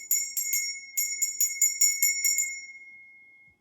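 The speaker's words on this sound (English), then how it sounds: "Let's get my bell out." A small bell rung for a prayer gives about a dozen quick bright rings in an even rhythm, then one long clear tone fades out, close and alone.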